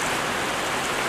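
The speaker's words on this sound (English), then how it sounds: "And this rain isn't going to help the lake levels" Steady rain falling near a lake during a chilly March day, a constant even hiss with no breaks.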